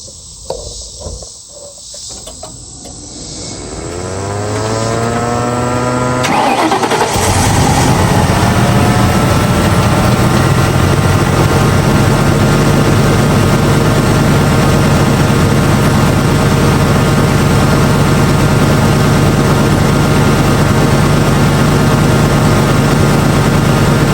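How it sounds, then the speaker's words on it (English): A 1999 Mustang GT V8 that has sat unused for a long time cold-starts after a few seconds of rising starter whine. It then roars into a loud, steady high idle with a strong belt or accessory whine running throughout. "Are you ready for an extremely cold start on a 1999 Mustang GT that's been sitting for a long period of time?"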